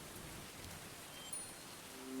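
Steady rain falls in a murder mystery video game, an even, faint hiss of drops on surfaces that continues without a break.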